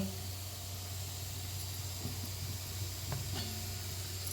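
Pressure cooker steaming idli, giving a faint, steady hiss of escaping steam with a low hum underneath and a few small clicks.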